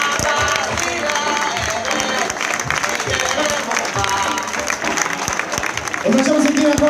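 A live audience applauds the maestro after a performance, with sustained dense clapping throughout and an announcer's voice speaking over it.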